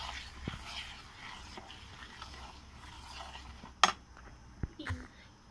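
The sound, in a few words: mixing sugar into mango suji cake batter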